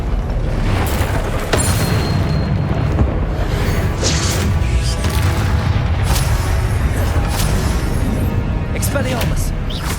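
Confringo fire-spell blasts in the Hogwarts Legacy video game come as repeated booming explosions over continuous battle noise, dense and loud, with bright crackling bursts scattered throughout.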